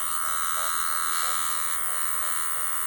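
A tattoo machine fitted with a 25 curved magnum needle runs with a steady, close electric buzz, a constant motor whine with slight rhythmic pulsing throughout.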